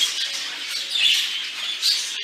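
Birds squawk and chatter in a double-decker half-flight aviary cage, making a steady high-pitched din with two louder bursts of squawking.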